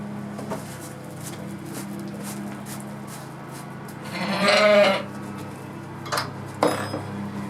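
A sheep or goat bleats once at mid-distance during hoof trimming and health checks, a wavering cry rising over low farmyard background hum, followed by a few faint shorter calls near the end.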